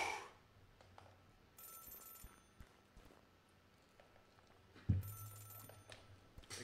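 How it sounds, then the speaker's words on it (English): A telephone rings inside a video game, two bursts of bright electronic ringing separated by a quiet stretch with faint footsteps and a low thump, fairly soft and without talk. "Pick up the phone."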